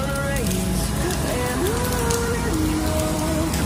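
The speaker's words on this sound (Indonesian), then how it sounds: "hari ini di Singapura hujan lagi teman-teman" Rain falls steadily in Singapore, a loud, dense patter that fills the scene throughout, with a faint voice or tonal sound drifting underneath.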